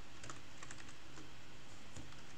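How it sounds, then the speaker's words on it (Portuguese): Quiet, scattered clicks of a worn, badly behaving computer keyboard being typed on while setting up a home Slackware server, uneven keystrokes in a faint room with no talking. "Tá horrível esse teclado."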